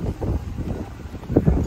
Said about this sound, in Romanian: Bate vântul mult mai tare decât